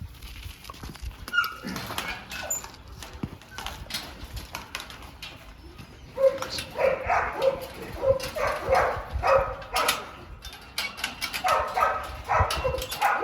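Young American Pit Bull Terriers and American Sentinels bark in a kennel yard, with repeated sharp yips and barks from several dogs, some near and loud, bursts growing busier in the second half, with birds faintly in the background.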